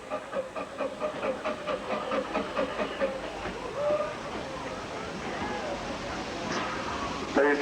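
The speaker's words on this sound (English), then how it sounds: "They stand well clear of the platform edge as the train approaches." A steam train pulls into a heritage railway platform on the Bluebell Railway, rhythmic chuffing and hissing steam rolling closer, with a sharp hiss burst near the end and faint crowd murmur around.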